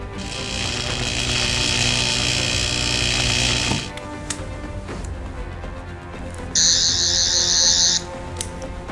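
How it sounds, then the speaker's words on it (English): A TARDIS fabricates a new sonic screwdriver with a loud whirring, buzzing mechanical drone for several seconds that cuts off abruptly, followed by scattered clicks and then a shorter, bright electronic whine. "TARDIS, make me a brand new sonic screwdriver"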